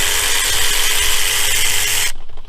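A power tool buzzes steadily for about two seconds while backing out intake manifold bolts on a 3800 engine, close and loud, then cuts off abruptly.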